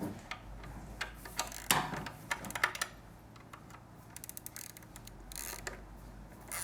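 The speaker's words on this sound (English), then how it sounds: "Using a 12mm socket and a wrench, you want to hold the nut in the back here" A 12mm socket and wrench work a muffler nut loose on a Triumph Street Twin motorcycle, giving close, quiet ratcheting clicks and metallic ticks in irregular bursts, with no talking.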